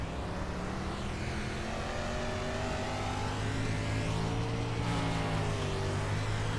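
Sprint car racing engines in a racing video game at a Volusia dirt oval, several high-pitched engine tones overlapping and sliding up and down steadily as the cars circle, a continuous, fairly loud whine with no voices.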